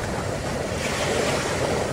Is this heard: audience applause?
no